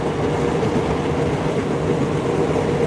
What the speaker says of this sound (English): I'll close out the next minute just with a little view of the train ride.